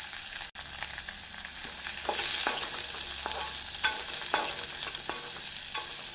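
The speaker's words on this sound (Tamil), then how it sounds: "நாம் கடுகு உளுந்து ஜீரகம் போட்டு பொரியவும் நறுக்கிய வெங்காயத்தை போட்டுவிடலாம்" Steady sizzling of mustard seeds, urad dal, cumin and onion frying in hot oil, with occasional stirring scrapes and small crackles throughout; no voices.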